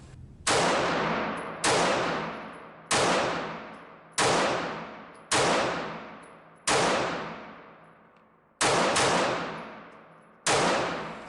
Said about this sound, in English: I may be jerking the trigger a bit here with my shots going lower left a little.